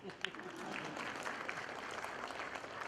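An audience at a 2018 induction program claps steadily throughout, a dense crackle of many hands at moderate loudness with no speech over it.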